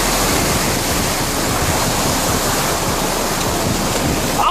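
Incoming tide waves wash and splash over rocks beside Sea Cliff Bridge. The roar is loud, close and continuous, with no pauses and no voices.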